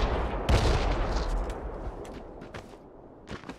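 Gunfire in the PUBG battle royale game: a loud burst of shots opens, followed by scattered sharper reports and distant cracks, with mechanical clatter in between.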